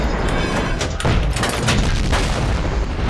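Tank cannon fire from a Carnarvon in a VK30.02M tank-battle video game: loud, heavy booms roll over a dense, continuous rumble of battlefield noise.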